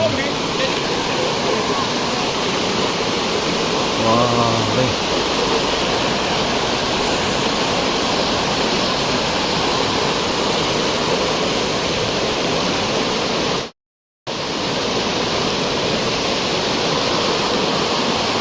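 Dudhsagar waterfall pours in a steady, dense roar of falling water, loud and unbroken, close to the trail after monsoon rain, with a brief dropout near the end.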